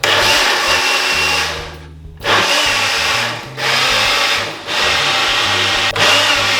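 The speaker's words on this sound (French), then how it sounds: "Et ensuite je vais blinder." A blender whirs loudly as it mixes coconut milk with honey for a snack, a steady motor drone that briefly cuts out twice before restarting, with no talk.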